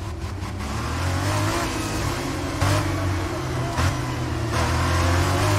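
A race car engine in the Formula 1 2022 video game, revving and accelerating loudly, with the pitch rising and falling through gear changes and no pauses.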